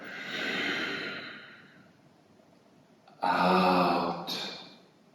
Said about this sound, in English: We're trying again to rebalance the flow of breath, breathing through the nose.